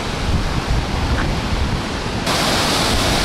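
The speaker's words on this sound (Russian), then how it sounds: "прям вода такая бушует" Steady, close roar of a rushing river in Manali, India, during the rainy season, a dense unbroken hiss and rumble with no voices.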